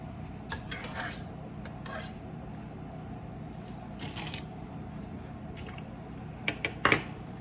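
A fork stirring avocado mayonnaise in a bowl, soft wet squishing under scattered metallic clinks and taps against the bowl, quiet and close with sharper clinks near the end.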